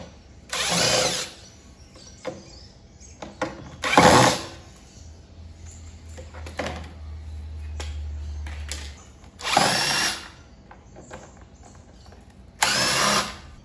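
A power tool undoes 8mm bolts on a Victa two-stroke lawnmower, four loud separate bursts of whirring, each about a second long, spaced by quiet gaps with small clicks and a low hum between them.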